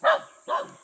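Two short barks from a dog nearby, a sharp yap followed by a second one after a brief pause.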